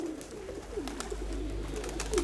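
A rock pigeon coos softly in low, wavering notes repeated a few times, close by over a steady background hum.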